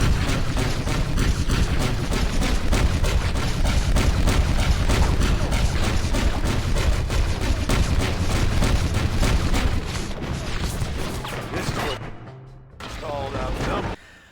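Sustained Gatling gun fire in the video game Red Dead Redemption, a dense rapid stream of loud shots over about ten seconds, then a brief gap and another short burst, with a voice talking over it.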